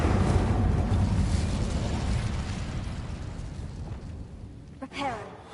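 Incendio fire spell cast in Hogwarts Legacy, a loud whooshing fiery burst that roars at first and slowly fades, ending with a short pop and a faint sweeping tone.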